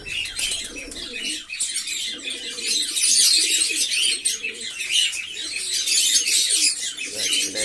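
Pigeons cooing and calling in a flock on a sunny morning after the rains, a dense, continuous chorus of overlapping coos and chirps with occasional wing flutters, close and loud.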